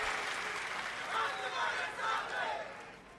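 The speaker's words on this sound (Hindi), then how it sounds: "एक बार ताली बजा के पंकजा ताई का स्वागत।" An audience at a political rally applauds to welcome Pankaja Tai, the loud crowd noise swelling in waves with cheering mixed in.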